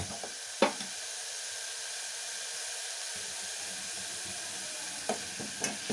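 Tomato sambar ingredients frying in a pan over medium heat, a steady hissing sizzle with a few sharp stirring clicks at the start and near the end, no talk.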